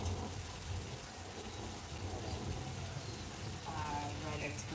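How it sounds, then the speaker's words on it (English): Artificial rain pours down on a Universal Studios tour set, a dense continuous hiss and patter throughout, with voices faintly under it. "Lighting helps capture the water by illuminating the rain, making it visible on screen."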